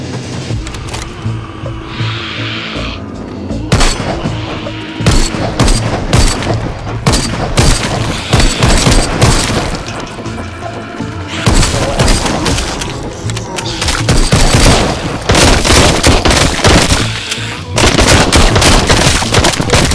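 Loud, dense gunfire from shooting zombies in the VR game Arizona Sunshine, with rapid bursts and single shots in irregular clusters plus booming impacts, sustained throughout and very close.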